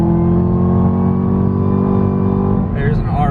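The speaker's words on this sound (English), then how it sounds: "that supercharger whine is beautiful" A 2019 ZL1 Camaro pulls hard on a highway, its supercharged engine holding a steady loud drone with a thin high whine layered on top, heard from inside the car; a voice talks briefly near the end.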